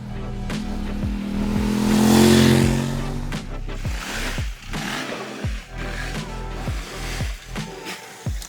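A Kove 800X adventure motorcycle ridden on the road, its engine revving up loudly then easing off through a series of gear changes and throttle blips, close and prominent.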